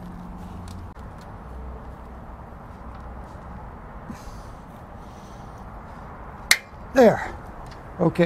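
A torque screwdriver set to 45 pound-inches with a number two square drive tightens a Siemens neutral bonding screw. A single sharp click comes near the end, followed by a few handling knocks, with a brief voice over quiet background hum.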